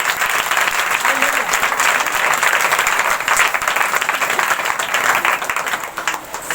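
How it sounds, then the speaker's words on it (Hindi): Congregation applause during a live prayer and testimony service in a church, a dense steady wash of clapping filling the room for several seconds, with voices mixed into the crowd noise. "ताली बजाएंगे परमेश्वर के लिए।"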